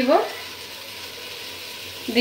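Spices hitting a pan of fried onions with a splash of water for chicken bhuna khichuri, giving a steady close sizzle that flares briefly at the start and again at the end, with a voice speaking over the opening.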